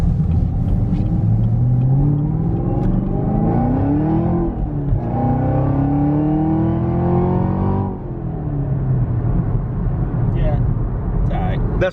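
A Chevrolet Camaro ZL1 accelerates hard in first gear from inside the cabin, its engine note climbing through rising revs, dropping briefly, then climbing again loudly, while people talk over it.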